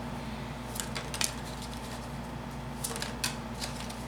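Tarot cards are shuffled by hand, a few soft, faint riffling bursts over a steady low room hum, with no talking.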